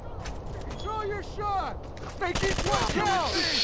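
Gunfire in Tom Clancy's Rainbow Six Vegas 2, rapid bursts of shots that grow denser toward the end, heard under a player's excited talking and a steady high game tone.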